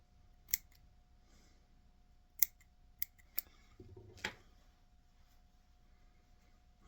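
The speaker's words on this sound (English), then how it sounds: "Just going to trim just a little bit out so I can get to the wire." Scissors trimming an EP fiber brush for a fly-tying redfish crab pattern, a few sharp, separate snips spaced irregularly and close by in a quiet room.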